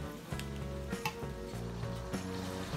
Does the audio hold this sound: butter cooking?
yes